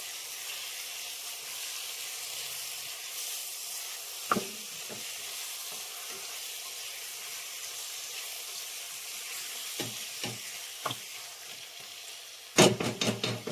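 Country chicken curry fries in a pot with a constant close sizzle, punctuated by occasional spoon knocks against the vessel and a burst of louder scraping clatter near the end; no voices.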